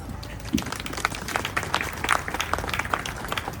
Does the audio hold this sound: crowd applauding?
yes